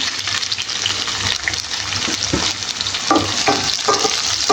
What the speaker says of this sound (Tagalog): Ako guys, pag nagluluto ako, inuuna ko yung aking sibuyas